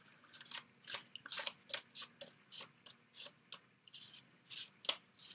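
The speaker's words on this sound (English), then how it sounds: "Let me put some additional cards down." Cards are shuffled for a reading in a quick run of soft, rhythmic riffles and slides, each burst short and close, with no talk over them.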